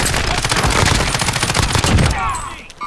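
Dense, continuous gunfire in Call of Duty: Warzone, rapid overlapping shots and bursts from weapons aimed at a helicopter in the air, loud and sustained for nearly three seconds before tapering off.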